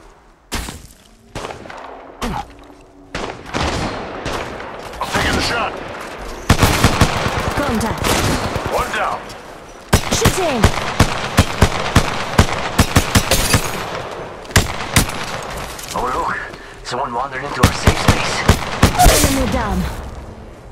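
Gunfire from the Apex Legends video game, with rapid automatic bursts and single shots that come in dense clusters and pause between them. The shots are loud, and a voice talks briefly under them.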